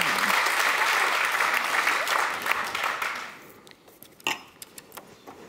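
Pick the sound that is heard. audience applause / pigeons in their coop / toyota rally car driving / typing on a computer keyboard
audience applause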